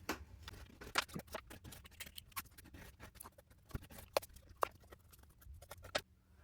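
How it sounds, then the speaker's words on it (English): Scissors snip close-up through iron-on glow-in-the-dark heat-transfer vinyl on a mat, a run of quick, sharp cuts in uneven rhythm with brief pauses, then a steadier series of snips before stopping. "I'm going to trim the edges away"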